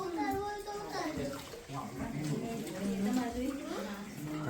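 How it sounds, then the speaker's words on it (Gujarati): Water trickles steadily from above onto a Shiva lingam inside a temple shrine, a continuous wash of flow running beneath close voices talking throughout. "જો આ બધે ઉપરથી પાણી કન્ટિન્યુ આવે છે"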